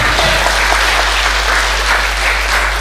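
An audience cheers and applauds in a steady, dense wash of clapping that stays loud and even throughout, with no voices standing out.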